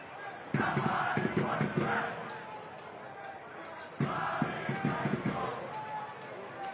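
Home crowd at a North Carolina FC soccer match at WakeMed Soccer Park, with supporters in red and white; a steady roar of cheering and chanting with rhythmic clapping bursts, broad and continuous.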